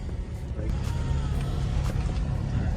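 A Nissan 350Z pulls away with a steady low engine drone and broadband road rumble, close and continuous for a few seconds with no talk over it.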